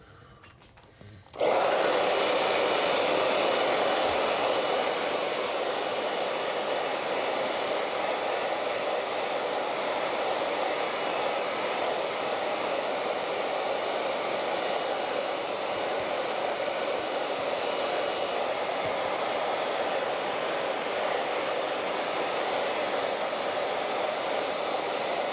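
A hair dryer blows steadily on a wet acrylic painting, switching on abruptly after a short quiet moment and then running loud and close with an even, unbroken roar for the remainder.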